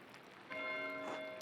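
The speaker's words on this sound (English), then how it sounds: "Why is Matthew ringing the bell?" A single church-style bell rings in a monastery setting, starting abruptly and sustaining a bright, steady metallic tone with long ringing overtones, fairly close and loud, with no talking over it.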